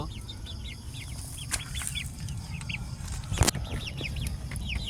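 Philippine desi chickens kept on a farm in Malaysia give repeated short clucks and chirps, moderately near, with a couple of sharp knocks partway through.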